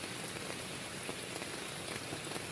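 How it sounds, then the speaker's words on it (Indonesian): Rain patters steadily on a leaky camping tent at night near a river, a dense, even hiss of drops with no pauses, faint and close. "ini hujan dah mulai reda teman-teman dah"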